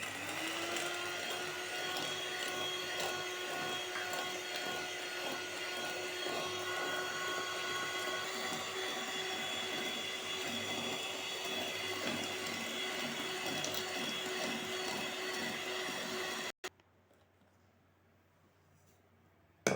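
An electric mixer whirs steadily as it beats egg whites with powdered sugar for a honey cake, a continuous loud motor drone lasting about sixteen seconds before cutting off abruptly into near silence.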